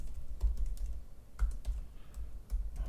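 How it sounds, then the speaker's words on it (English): Code being typed on a computer keyboard: quick, uneven key clicks arrive in short bursts with small pauses between them, close and moderately quiet with no talking. "we'll type swiper"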